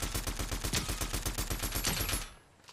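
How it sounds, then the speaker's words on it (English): Sustained automatic gunfire in Fortnite, a fast, evenly spaced string of loud close shots that stops abruptly near the end. "I'm shooting him"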